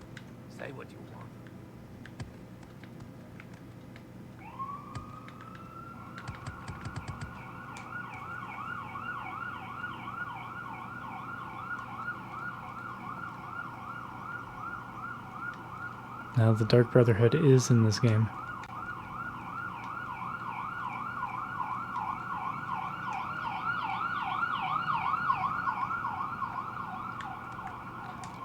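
A wailing emergency-vehicle siren passes by, its rising and falling tone swelling over about twenty seconds and growing louder toward the end, heard beneath steady talking from a person nearby.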